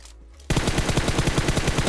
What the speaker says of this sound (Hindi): भाई सामने फायरिंग चल रही है